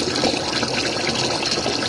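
An RV washing machine fills with hot water from a faucet, a steady, loud rushing gush of running water pouring in continuously and close by, with no talking.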